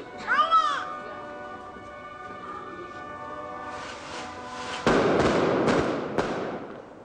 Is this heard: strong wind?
no